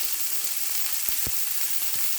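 Onions frying in oil give a steady, bright sizzle throughout, broken by a few soft clicks and bumps from the pan, with no voices.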